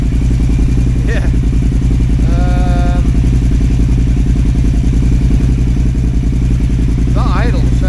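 A KTM 950 Adventure S motorcycle, fitted with a new air intake and rejetted carburetors, idles steadily at about 1,250 RPM with a low, even pulsing throb; people speak briefly over the engine.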